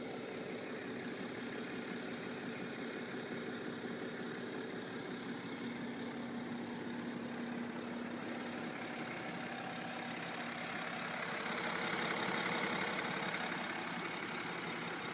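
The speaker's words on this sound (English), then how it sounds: "I wanted to get how loud the engine is when it is idling in park." A 2014 BMW 535d diesel engine idles in park at night, giving a steady, quiet, low hum that holds evenly throughout and swells slightly near the end.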